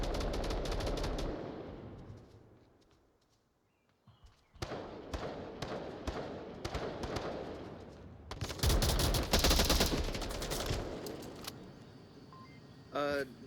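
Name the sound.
gunfire in the VR video game Onward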